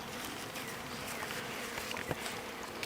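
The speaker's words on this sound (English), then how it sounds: "See the bees up here already?" Honey bees buzz around a hive feeder filled with syrup outdoors, a steady, dense hum of many insects close by, with no voices.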